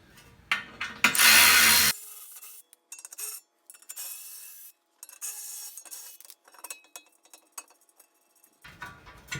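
A ratchet wrench works 13 mm skid plate bolts loose on a Jeep Gladiator or JL, with bursts of metallic clicking and clanking separated by short silent gaps, close up and alone.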